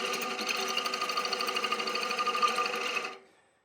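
Bowl gouge cutting a wooden bowl on a spinning lathe, a close, steady buzzing whir with a rapid regular pulse that cuts off sharply near the end.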